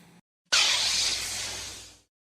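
A lightsaber snaps on with a bright, crackling burst that settles into a hissing hum and fades away over about a second and a half.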